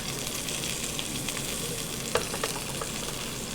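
Salmon fillet sears skin side down in a hot skillet, giving a steady, close crackling sizzle with a few sharper pops near the end and no voices.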